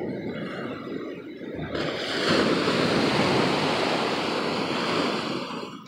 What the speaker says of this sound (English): when the water comes over the rocks, and then between all those rocks are little miniature waterfalls